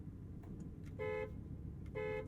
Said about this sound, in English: Let's do the world famous horn test.